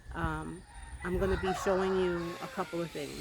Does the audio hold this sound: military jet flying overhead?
no